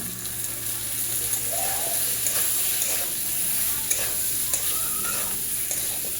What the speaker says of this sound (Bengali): ভাজা কচুটা দিয়ে ভালো করে অনেকক্ষণ ধরে কষে নেব